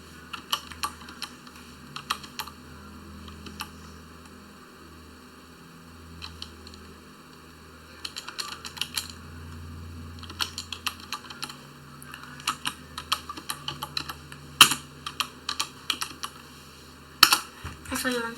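Bursts of computer keyboard typing come in quick irregular runs of clicks over a steady low hum, close to the microphone, with short pauses between runs.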